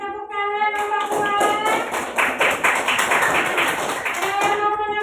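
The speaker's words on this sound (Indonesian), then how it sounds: "Kasih tepuk tangan kelompok dua." A group of students in a classroom gives a round of applause for their classmates, a burst of hand clapping that builds and holds for several seconds before tapering off, with voices faintly underneath.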